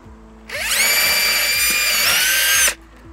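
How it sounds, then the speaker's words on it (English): A power drill bores a pilot hole for a side-mount aluminum handrail post, whirring loudly and steadily for about two seconds after a quiet start, then stopping abruptly. "Run my pilot hole in."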